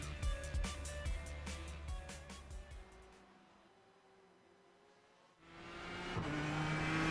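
A GT race car in the iRacing sim laps the Montreal circuit, its engine revving hard through several gear changes, dropping to a low idle-like lull, then roaring back up loud and close.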